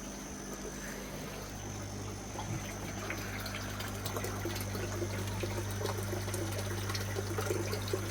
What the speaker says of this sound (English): get some fresh water in, and also get some fresh water in the big tank